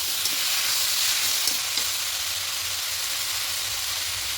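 A paste of green chilies and mustard is stirred into a hot frying pan, giving a dense, even, loud sizzling hiss with a few faint stirring knocks early on and no voices.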